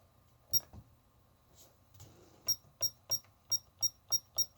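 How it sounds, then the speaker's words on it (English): A Mitsubishi HS-U110 VCR gives a short electronic beep, pauses, then a steady run of crisp, evenly spaced beeps repeats about three times a second in a quiet room. "You can even turn beeping on and off"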